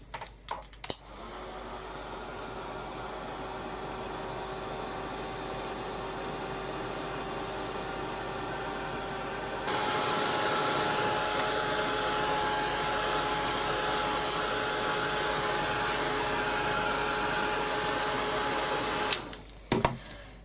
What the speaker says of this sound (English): now I'm going to give it a quick blast with the with my heat gun